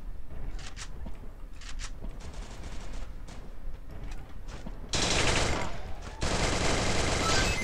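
Rapid bursts of video game gunfire crackle in short volleys, then give way to loud, sustained automatic fire in the second half.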